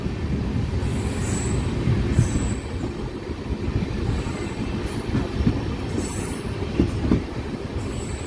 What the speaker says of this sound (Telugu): ఒక 5 నిమిషాలు ముందుగానే వచ్చింది మన ట్రైన్.